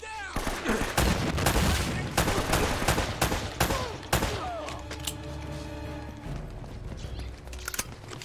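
Rapid AK rifle fire from the video game Uncharted: Drake's Fortune, loud bursts and single shots clustered in the first half, then quieter game music and ambience with scattered shots.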